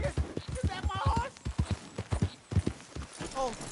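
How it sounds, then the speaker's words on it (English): A horse in Red Dead Redemption 2 walks with rhythmic clip-clop hoofbeats close by, with a brief snort or whinny, while game characters talk over it. "Is that my horse?"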